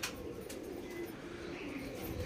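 Close by, a pair of pigeons, a hen and a cock, give low, soft coos against a faint steady background. It is a brief, quiet murmur with no clear voice over it.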